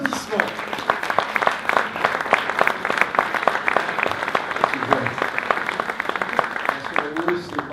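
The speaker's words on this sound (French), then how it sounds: "Sur vos applaudissements." An audience at the opening of the 2017 Radio Axe Sud stage event applauds the station's president, dense, steady clapping holding at an even level throughout, with a voice briefly heard.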